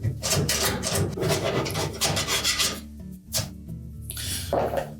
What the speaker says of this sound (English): You'll probably want to use a stiff putty knife to remove as much as you can.